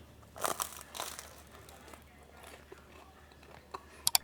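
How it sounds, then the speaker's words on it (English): A bite into a hot, crunchy homemade pizza crust with air bubbles gives a few soft crisp crunches near the mouth, followed by quieter chewing and faint rustling. "You hear the crunch, but it's still kind of chewy."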